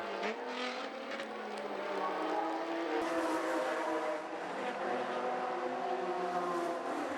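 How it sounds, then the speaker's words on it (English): A race car engine on a wet, slippery circuit revs hard and pulls away, its loud, steady roar climbing in pitch as it accelerates, with no talking over it. "He revs up the engine and takes off for the circuit."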